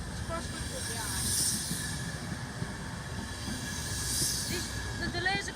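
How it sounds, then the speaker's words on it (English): A CrossCountry train rolls into Northallerton station with a loud, steady rumble and hiss, wheels squealing faintly near the end; someone speaks briefly over it. "Oh, this is another train coming. It's cross country behind."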